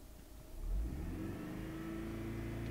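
A Chrysler Voyager 2.4L engine revved up from idle to around 3500 rpm, rising into a steady, fairly loud held drone recorded close to the engine bay.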